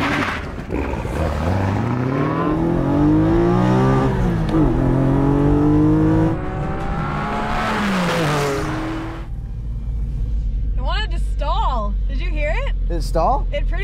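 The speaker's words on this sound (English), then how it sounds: "Drag race between the Porsche and the Camaro." A Porsche 718 Cayman GT4 and a Chevrolet Camaro ZL1 1LE launch in a drag race, engines revving hard and climbing through several gear changes, loud and near, then fading as they pull away, with people talking over it.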